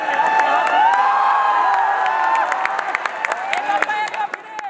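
A stage audience at a live show claps and cheers loudly in welcome, whoops and shouts riding over sustained applause while a host's voice carries through.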